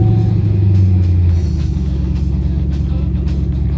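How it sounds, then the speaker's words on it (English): A 2010-2015 Camaro engine runs at a steady, loud idle with a low rumble, after a short higher tone at the start, heard up close. "The last thing you want to do is fire this thing up so the oil will fill the oil filter."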